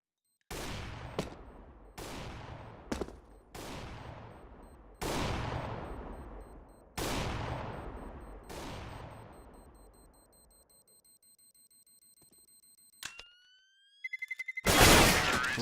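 Rifle fire in a Counter-Strike match on de_cache rings out in sharp single shots and short bursts with long decaying tails, followed by a thin high electronic tone and a final loud burst.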